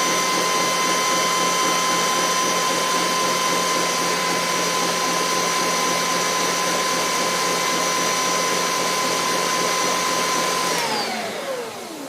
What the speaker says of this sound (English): The pitch of the mixer has changed.